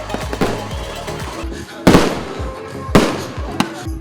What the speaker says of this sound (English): The night concluded with a mesmerizing beachside fireworks display that captivated the guests with exclamations of awe.